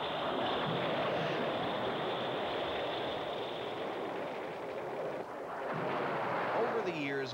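Film sound effect of napalm bombs exploding: a massive sustained roar of blasts and rumbling fire fills the whole stretch, with a dip midway before another surge and some faint voices near the end.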